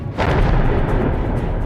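A deep thunder crack breaks out and rolls on as a loud, continuous rumble while the monsoon arrives over Gujarat.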